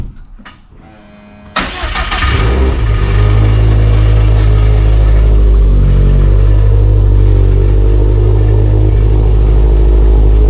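Car engine starting after an oil change, a brief crank catching into a loud, steady low idle rumble that continues as the car is moved out, close by with no talk.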